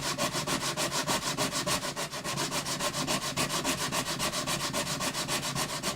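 Steady scraping of a blade shaving the finish off the bridge of a Yamaha FG180 red label acoustic guitar, a fast rhythmic rub repeating without pause, close and fairly loud, no voices.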